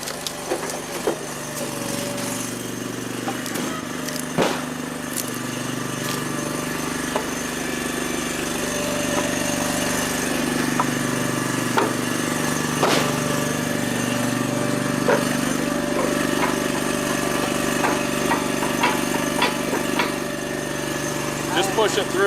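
An All Wood 8-way log splitter's engine idles low and steady outdoors on a driveway, a constant rumbling drone broken by occasional sharp cracks and snaps of splitting wood.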